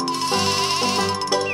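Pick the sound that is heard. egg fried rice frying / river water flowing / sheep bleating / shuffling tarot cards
sheep bleating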